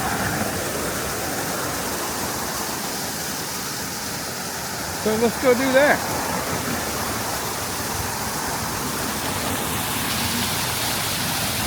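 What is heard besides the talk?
waterfall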